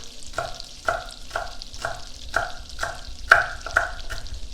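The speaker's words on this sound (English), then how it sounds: "Get those in the butter. Oh, brown butter and sage." Sage leaves sizzle in brown butter in a pan, with a soft steady fry under repeated rhythmic stirring scrapes and a few spitting pops, close and moderately quiet, no talking.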